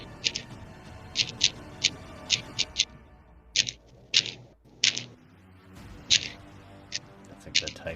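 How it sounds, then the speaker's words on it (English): Crisp typing-like clicks from a haptic device during a tabletop Dungeons & Dragons session, coming in quick irregular bursts of taps over a low background murmur. "That's like the typing sound."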